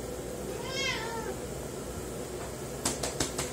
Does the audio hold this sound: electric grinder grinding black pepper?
no